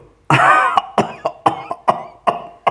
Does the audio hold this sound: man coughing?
yes